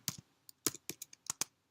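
A short command is typed on a computer keyboard: about eight crisp, close key clicks in an uneven rhythm, quiet and with no talking.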